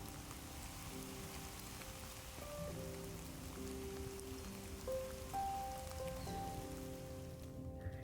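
A steady wash of heavy spring rain hisses evenly and quietly, with soft sustained musical tones underneath.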